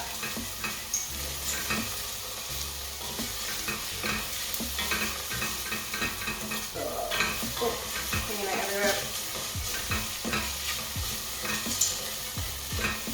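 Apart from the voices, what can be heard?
vegetables cooking and stirred in pot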